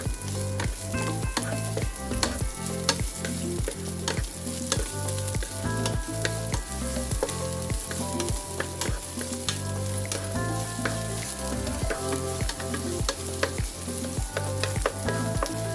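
White onion frying in a hot pan, a loud, constant crackling sizzle with rhythmic knocks of a utensil stirring and tapping throughout, close up and uninterrupted by speech.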